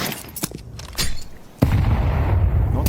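An HE grenade explodes in a Counter-Strike 2 match on Mirage, a heavy close boom that follows a few scattered sharp shots. The blast leaves a loud, rumbling tail that fills the rest of the moment.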